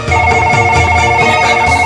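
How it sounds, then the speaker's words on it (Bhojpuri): A telephone rings loudly and continuously, a bright electronic trilling tone repeating in quick pulses with no talking. "वो दरवाजा की घंटी ना, फोन के घंटी है"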